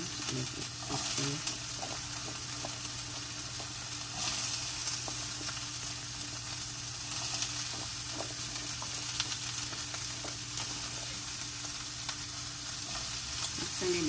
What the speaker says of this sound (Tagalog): we're gonna add the onion and celery first. Let it cook.